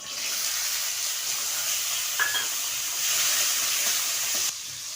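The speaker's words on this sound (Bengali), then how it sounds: "ছোলা ভাজবো।" Chickpeas fry in hot oil in a heated wok, giving a steady broadband sizzle that runs for several seconds and then drops slightly near the end.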